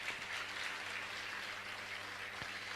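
Audience applause at a Jain religious gathering, a steady, fairly faint wash of many hands clapping that holds evenly throughout without a clear voice.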